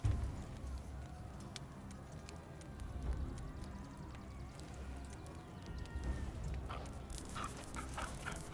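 A dog in the dark fantasy turn-based RPG Crown Wars: The Black Prince gives short barks and whimpers, set amid dense game effects and ambient noise, fairly close but partly buried in the mix.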